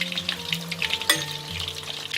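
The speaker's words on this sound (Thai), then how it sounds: "ทอดให้เหลืองทั้งสองฝั่งค่ะ" Steady sizzling of fish frying in hot oil in a pan close up, with occasional pops and a faint low hum underneath.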